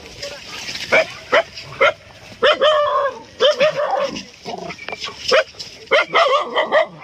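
Pet dogs chasing a wild boar across farmland bark in repeated sharp bursts, with yips and whimpers mixed in, moderately near and spaced irregularly over several seconds.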